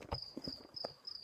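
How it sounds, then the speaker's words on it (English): Faint crickets chirp in a garage, short high trills repeating in a loose rhythm alongside a few soft scuffs and taps close by. "Yes, I have crickets in my garage."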